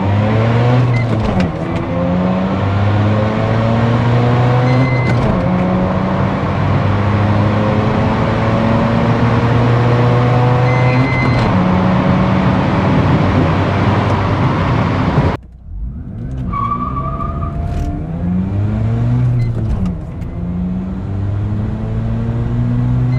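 A 30-year-old Mazda RX-7 R1 accelerates hard on a quarter-mile run, its loud rotary engine climbing through repeated rising gear pulls, with a brief break at a shift before revving up again, close and unbroken.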